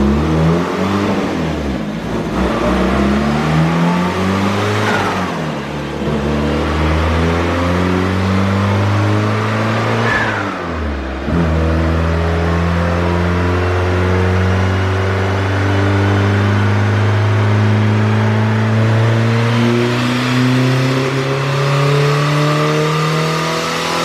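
A built, turbocharged 1995 Dodge Neon SOHC engine with a TD05 turbo on 13 psi revs on a dyno, droning close and loud as its pitch rises and falls through long pulls, with one sharp drop midway.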